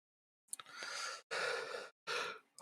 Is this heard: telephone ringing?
no